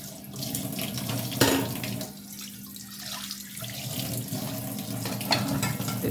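Kitchen items washed under a running tap after cooking: water streams steadily into the sink the whole time, with a few small knocks and splashes from the items, fairly close and with no talking.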